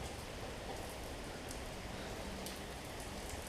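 Steady rain falls continuously with a dense hiss and scattered drops, with no voices.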